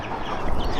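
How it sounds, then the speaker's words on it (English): An older F1 hen that is kept with a blue rooster gives a low, steady cluck. It sounds close and is mixed with dense farmyard background noise. "This is one of my older F1 hens. She's with the blue rooster also."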